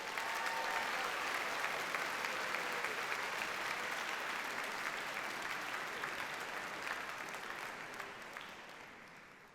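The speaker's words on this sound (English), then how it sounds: "So please give yourselves a round of applause." Sustained, dense audience applause fills the hall at a holiday tuba concert on the Millennium Stage, steady and loud before slowly tapering off toward the end.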